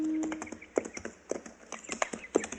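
Horse hooves clip-clop at a steady walking pace through a frontier radio drama scene of riders heading back toward a cabin, several distinct close hoof strikes over about two and a half seconds with no talk.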